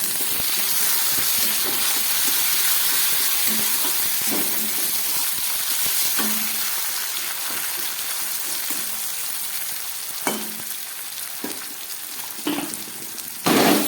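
Chopped tomatoes hit onions frying in a pan, giving a strong steady hiss of sizzling with steam, later broken by several sharp knocks and scrapes of a utensil against the pan.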